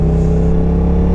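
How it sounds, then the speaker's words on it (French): A motorcycle engine runs steadily during an A2 licence riding exam as the bike sets off, giving a continuous close low rumble with a faint rising whir and no talk. "je monte sur la moto, machin, on part"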